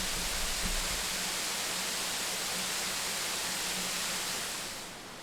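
Brasstown Creek pours into a clear pool at the base of a small fall, giving a steady, close, full-bodied rush of water that holds even throughout and fades slightly at the end, with no voices.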